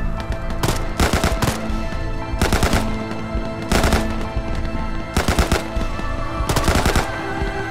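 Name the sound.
gunfire into the dark, from video game ArmA 3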